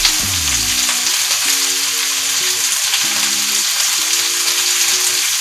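Cabbage wilting in a hot pan sizzles loudly and steadily close by, with stirring and breaking-apart sounds mixed into the crackle.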